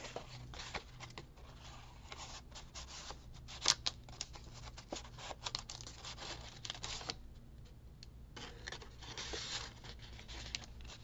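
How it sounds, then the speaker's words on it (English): Scissors snip through tissue paper in a quiet room, a faint series of small irregular cuts and soft crinkling rustles close by, with no one talking. "I'm going to snip it to the bottom of the flower."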